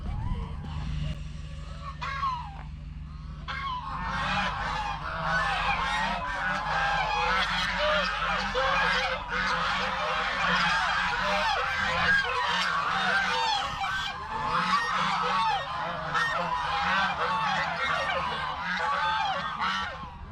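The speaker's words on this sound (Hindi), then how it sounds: "अभी मैं आपको बत्तखें दिखाता हूँ।" A dense, continuous chorus of honking and quacking ducks in their enclosure fills the scene, loud and close, with a low rumble underneath throughout.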